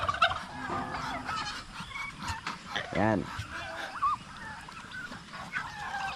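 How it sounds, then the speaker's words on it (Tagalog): Turkeys gobbling on a rural farm in light rain, several rippling gobbles and honking fowl calls scattered through, one loud close gobble in the middle, with someone talking intermittently over them. "yung mga pabo natin ito"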